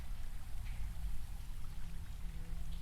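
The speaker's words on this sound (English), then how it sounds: "I carry on wading towards the light" Continuous watery sloshing and rushing as someone wades through a dark underground river or lake with a current, steady and fairly close, with no voices.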